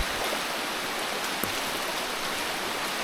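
A swollen hill stream rushes in Bilaichhari, Kaptai, Rangamati, running far fuller after heavy rain, a loud, close, unbroken roar of churning water with no voices.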